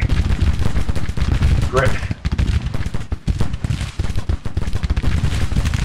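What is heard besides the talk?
musket gunfire from the video game Grand Tactician: Civil War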